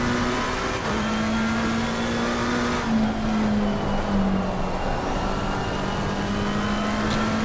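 A race car engine in Assetto Corsa Competizione drones steadily at high revs, its pitch dipping slightly mid-run then holding, with continuous road and tire noise up close and no talk.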